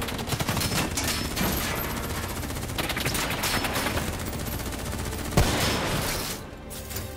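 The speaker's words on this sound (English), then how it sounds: "Who's shooting?" Constant, loud automatic gunfire in the Call of Duty: Black Ops III video game, overlapping bursts with no gaps, a sharp crack near the end and a brief dip just before it closes.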